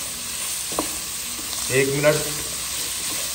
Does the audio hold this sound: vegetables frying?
yes